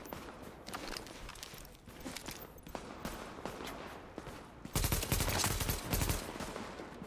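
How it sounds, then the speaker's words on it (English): Gunfire in the video game The Division: rapid bursts of shots over a busy, noisy game background, moderately loud, with a denser volley near the end. "We're shooting down here."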